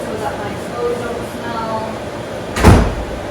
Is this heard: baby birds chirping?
no